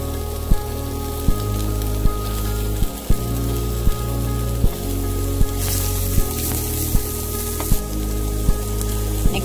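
Onions frying in oil for spring roll filling give a steady sizzle, with regular soft knocks of a spoon or pan every second or so; no talking.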